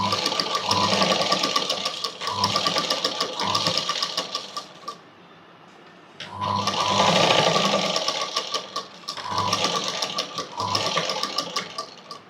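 A sewing machine stitching a baby frock, running in steady rapid bursts of close mechanical whirring and clatter, pausing briefly in the middle before starting again for several more runs.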